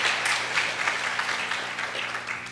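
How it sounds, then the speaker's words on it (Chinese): Audience applause at an open source software conference talk, a dense steady wash of many hands clapping throughout, fairly loud and even with no voices over it. "那我们掌声感谢 LY 带来的精彩演讲"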